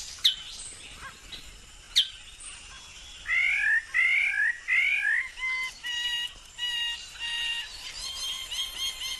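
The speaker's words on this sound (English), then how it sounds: "No primates sing in this dawn chorus. This is a land of birds." Dawn chorus of birds in a New Guinea forest: a few sharp calls early, then repeated bright whistling phrases and trilling notes rising and falling, several birds overlapping at moderate loudness with no voices.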